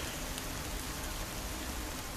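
Rain falls in the survival video game The Forest, a steady, even wash of dense pattering hiss that stays constant throughout with no voices over it.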